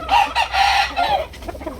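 A mature two-year-old rooster with one leg missing gives several short clucking calls close by, in bursts with brief pauses, no talk.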